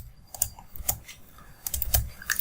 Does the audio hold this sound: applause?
no